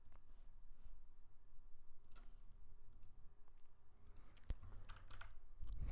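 Keys on a computer keyboard tap faintly and irregularly in scattered light clicks, with a sharper click near the end, as a long wallet address is entered during a capture-the-flag challenge.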